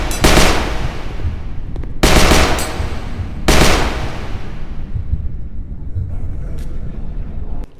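Automatic gunfire shooting zombies in the VR game HordeZ, three loud rapid bursts in close succession, each trailing off into a reverberant tail and scattered echoes.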